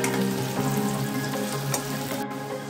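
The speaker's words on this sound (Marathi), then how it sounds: "कांदा गोल्डन ब्राउन होईपर्यंत 5 मिनिट आपण याला चांगला फ्राय करून घ्यायचा आहे" Onion frying in a pan until golden brown for a prawn and potato curry, giving a steady, close, even sizzle that holds without a break.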